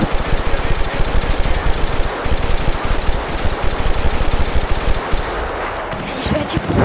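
Loud, rapid bursts of automatic weapon fire in Battlefield: Bad Company 2, sustained rattling volleys running almost the entire time with brief gaps, with a voice talking in between.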